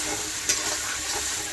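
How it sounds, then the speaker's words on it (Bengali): Masala spices fry in oil in a pan while being stirred, a soft continuous sizzle marked by a scrape or two of the spoon, heard up close with no talking. "এবার মশলাটা ভালো করে সুন্দর করে ভেজে নেব যতক্ষণ না মশলাতে তেল ছাড়ছে।"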